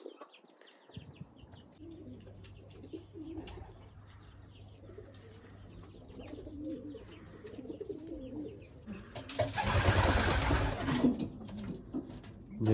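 Racing pigeons cooing softly at their loft, repeated low coos over quiet ambience, then a loud burst of wing flapping near the end as birds take off or land.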